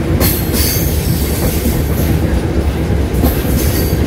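A train rolls into Tuni station, its loud, continuous rumble of wheels on track carrying a steady rattle of carriages and occasional high wheel squeal, close and unbroken throughout.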